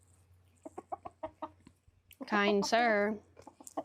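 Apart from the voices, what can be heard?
roosters clucking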